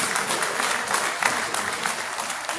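Dense, steady applause from a crowd at a Nigerian Army end-of-year dinner party honoring a special guest, filling the room evenly and loudly without pause.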